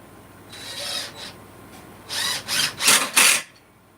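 Screws are driven in while boxes are fastened together, giving a few rasping, grinding bursts that grow louder and closer together toward the end, with no talking.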